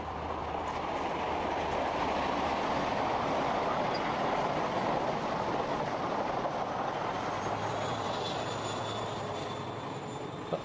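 Train running along the seawall at Dawlish, a broad steady rumble that stays loud and constant throughout with no voices.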